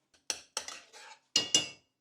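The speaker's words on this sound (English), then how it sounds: "keep stirring for around 10 minutes until it reaches a low boiling point" A utensil scrapes and clinks against a pot while fig and sugar jam is stirred on the stove, several short, close strokes in quick succession with brief pauses between.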